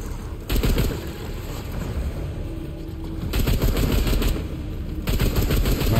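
Heavy cannon and gun fire in the video game Remnant 2, a sustained loud barrage of booming shots with dense rapid bursts that swell in intensity near the start and again toward the end.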